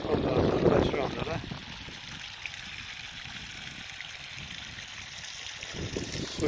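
Irrigation water carrying ammonium sulfate runs through a walnut orchard, a soft steady trickle and gurgle heard close, louder at the start, with someone speaking quietly over it.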